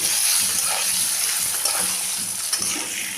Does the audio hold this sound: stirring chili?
yes